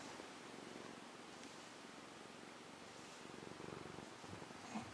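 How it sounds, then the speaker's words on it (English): A cat purrs softly and continuously nearby, a low steady rumble with a faint rustle near the end. "She actually purrs."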